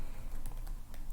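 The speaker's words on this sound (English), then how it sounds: "I'm just typing across" Fingers type on a computer keyboard while filling in a spreadsheet, a few quick soft clicks over a steady background hum.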